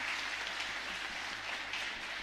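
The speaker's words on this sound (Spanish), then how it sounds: "Y un fuerte aplauso para nuestra comunidad." A congregation applauds in a chapel during a novena service to the Sacred Heart of Jesus, a soft, continuous patter of many hands heard from a distance at a steady level.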